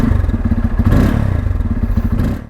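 A 2021 Bajaj Pulsar N250 motorcycle idles up close, its engine thumping in a steady, loud, even rhythm with a slight rise in the middle before cutting off at the end.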